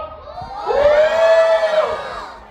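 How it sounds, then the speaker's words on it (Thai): A crowd at a Thai floating-market performance raises one long unified shout, swelling up and holding for about a second before tapering off, loud and close. "ขอเสียงโหดังๆ พร้อมกันอีกสักครั้งหนึ่งได้ไหมครับ"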